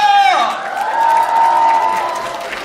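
At a children's kindergarten recital in 2016, an audience cheers and applauds loudly as performers come out, with a high drawn-out shout riding over the clapping and crowd noise.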